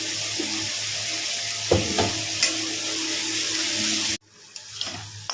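A paste of ginger, garlic, green chilli and tomato fries in a pan, a close, steady sizzle with a few scraping stirs, cutting off abruptly near the end to quieter clinks.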